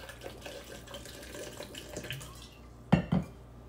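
Water trickles and splashes softly into strained bitter gourd juice for a few seconds, ending in a couple of sharp clinks of the vessel, close and fairly quiet.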